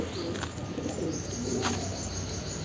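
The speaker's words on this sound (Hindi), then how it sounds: "ये फीमेल जंगली कबूतर है" A female wild pigeon coos softly and continuously at close range, a low steady murmur under faint background hiss, with a couple of brief brighter chirp-like notes mixed in.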